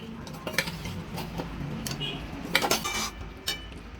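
Eggs going into fried masala in a pan for a dhaba-style egg curry, followed by repeated metallic clinks and scrapes of a utensil against the pan over a light sizzle, close and fairly loud.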